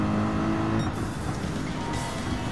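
Race car engine in Gran Turismo 7 at Spa-Francorchamps, held at high revs under steady throttle with a dense buzzing tone that shifts pitch once, loud and close with no voices.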